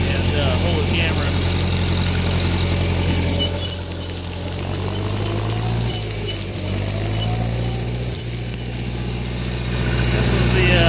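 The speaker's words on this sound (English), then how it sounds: "This is the 3020 gas. It's running good and strong." A gas 3020 tractor engine with a freshly rebuilt head runs steadily near the microphone, a loud low throbbing idle with a deep drone that dips slightly midway and swells again toward the end.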